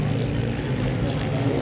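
Dirt bike accelerating on a grass track during a French championship race, a droning engine roar mixed under a commentator speaking over it.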